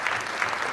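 Audience applause at an Africa Public Service Day ceremony, a steady wash of clapping from a seated crowd, fairly even and moderately loud throughout the short stretch.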